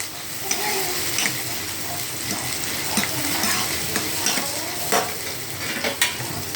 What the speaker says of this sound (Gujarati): હવે એમાં આપણે ટામેટા નાખીશું, ઝીણા ઝીણા કાપેલા. પછી એને સાતળવા દઈશું.